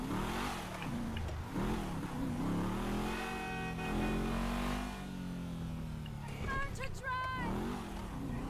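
A car in Grand Theft Auto V pulls away, its engine revving with rising and falling pitch over a steady game mix, as voices talk across it.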